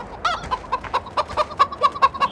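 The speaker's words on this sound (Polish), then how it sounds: "Kury mamy w zagrodzie." Chickens in a pen in the video game Farming Simulator 2013, rapid repeated clucking in a quick rhythmic series, close and clear, with no talk.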